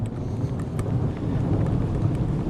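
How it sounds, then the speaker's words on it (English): Rain falling on a forest trail along the Natchez Trace as storms roll in, a dense, steady hiss with a low rumbling wind-buffeted undertone, continuous and fairly loud throughout. "The storms are rolling in. Just rain right now, but we're gonna have some storms soon."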